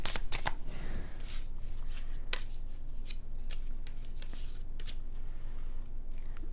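Close, crisp riffling and soft slapping of tarot cards being shuffled, in several quick bursts, with no talking.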